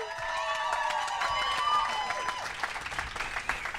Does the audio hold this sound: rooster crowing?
no